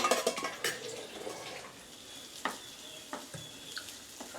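Tomato and ginger garlic paste being sautéed in a pan, with a low sizzle under soft scraping and stirring, and a few light clinks of a spoon against the pan.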